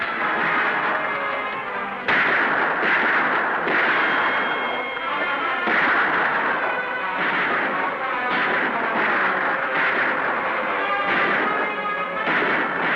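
Gunfire in a battle scene from a western film, with dense rolling volleys of shots and booms continuing throughout at a loud, steady level, with no talking.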